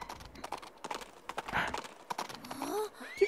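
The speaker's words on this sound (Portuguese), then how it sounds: "Aí vem o cavalo." A horse's hooves clip-clop in the Princess Peach Showtime video game, quick, light taps mixed with game effects and a rising chime.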